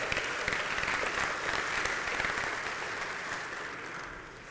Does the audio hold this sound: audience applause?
yes